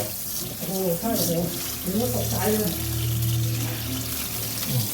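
Water sprays steadily onto a dusty refrigerator condenser that is still hot, rinsing the dust away during a repair for weak cooling; a close, continuous rushing hiss runs throughout while someone talks over it.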